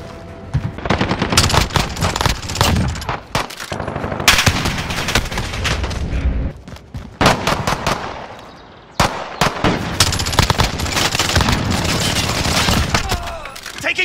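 Sustained automatic P90 gunfire in a video game battle, loud rapid bursts filling most of the stretch with brief pauses between volleys and no talk.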